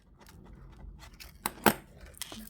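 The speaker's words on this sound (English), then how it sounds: "I'll cut the weaving wire off at both ends because this next bit is a bit fiddly" Sharp snips of wire cutters trimming thin weaving wire on a handmade wire-wrap ring, two or three close, crisp metallic clicks around soft handling noise.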